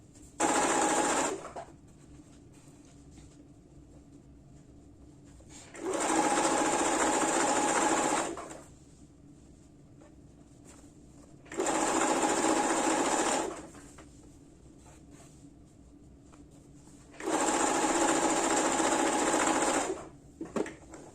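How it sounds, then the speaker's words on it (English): A sewing machine sews a zigzag stitch on a basic rectangle wrap top in four separate loud runs of about two seconds each, with quiet pauses between them. "So I'm going to make a zigzag stitch to prevent it from coming off"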